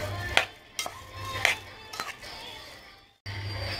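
Sugar being stirred through fruit chaat in a bowl, a few sharp scraping clinks of a spoon against the dish spaced about half a second apart, close and moderately quiet, with a brief pause near the end.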